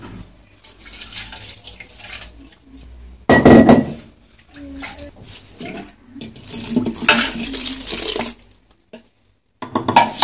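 Water poured over freshly ground herbs, coriander, parsley and celery, in a pot for Moroccan harira, with bursts of splashing and tap flow between quieter pauses and a few clanks of the pot.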